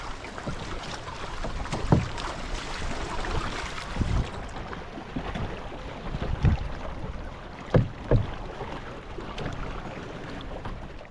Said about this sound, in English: There is so much boat traffic here.